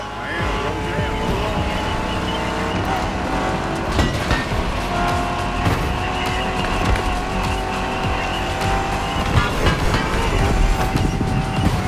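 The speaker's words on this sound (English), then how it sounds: "a mean muscle car to kick everyone's butt" A muscle car races in The Crew Motorfest video game, a loud sustained engine roar with tire squeals and skidding, continuous and close throughout with someone talking over it.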